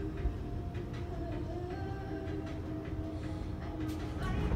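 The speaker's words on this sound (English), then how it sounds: "The other train's also leaving too." A subway train rumbles through a station, a steady low mechanical drone with faint squeals and clanks as carriages move, moderately distant and continuous without speech.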